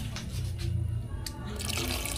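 Water is poured into a cooking pot of papaitan stew, a steady splashing, gurgling pour close by with a quiet sizzle-like hiss underneath.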